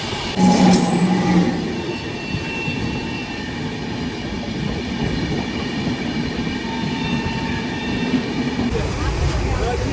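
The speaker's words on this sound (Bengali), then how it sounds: "12:02-তে আমাদের ট্রেন হাওড়া থেকে ছাড়লো" A passenger train leaving Howrah rumbles steadily from inside a coach, with a loud low roar, faint rhythmic wheel clatter and a brief high squeal near the start.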